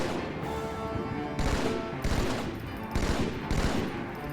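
Gunfire in Halo 2 on the Metropolis level: loud rapid bursts, each about half a second long, repeating in a rough rhythm with brief gaps between them.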